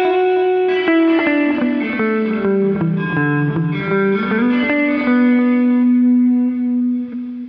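Guitar played through a Horizon Devices Flux Echo pedal with the mix turned fully up, sustained chords and notes washing into a lush, continuous ambient echo and reverb tail, loud and close throughout.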